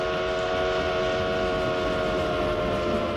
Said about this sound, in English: At the speed of a train, you can sense the change of pitch for sound, but not for light.